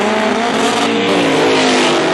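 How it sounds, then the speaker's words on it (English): A 1979 MGB and a Chevy Corvette race side by side in a no-prep drag race, loud roaring engines at full throttle sustained and close. "a 1979 MGB in the left lane and a Chevy Corvette"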